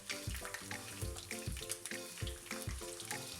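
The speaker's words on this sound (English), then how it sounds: "Saute them for a minute till they turn aromatic." Green chilies sauté in hot oil in a kadhai with cinnamon, cloves and curry leaves, a steady close sizzle running under a rhythmic musical beat.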